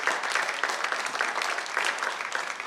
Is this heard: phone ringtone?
no